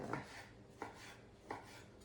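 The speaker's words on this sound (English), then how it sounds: "I'm going to finish chopping these tomatoes" Three quiet knife strokes through tomatoes onto a cutting board, evenly spaced, close by in a calm room.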